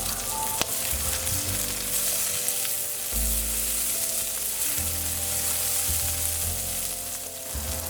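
Sliced sweet peppers and onions sauté in a hot pan, giving a bright, continuous sizzle over a low steady hum, with a single sharp click near the start.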